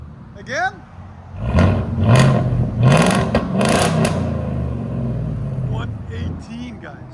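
A 2024 Ford F-350 SXT pickup with a 6.8L V8, X-pipe and straight pipes, revving in short bursts with a rumbling exhaust and occasional pops, close by while people talk over it.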